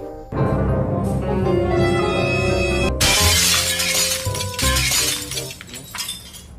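Glass shatters loudly in a shop opened for the morning, a heavy crash near the three-second mark followed by scattered tinkling debris and a second burst of breaking shards, with no talk over it.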